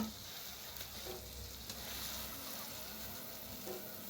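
Puris made with banana frying and puffing in hot oil: a continuous, dense sizzle and crackle, fairly close and steady throughout.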